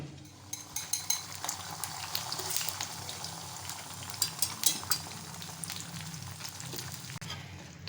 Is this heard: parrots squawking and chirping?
no